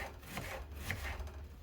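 A knife chops through onion on a board in a kitchen, a series of soft, quick, close cuts at fairly low volume.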